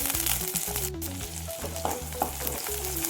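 Chopped onions and a cup of curry leaves frying in hot oil for Chettinad-style mutton kola urundai kuzhambu, a steady dense sizzle with occasional stirring scrapes under a low background hum.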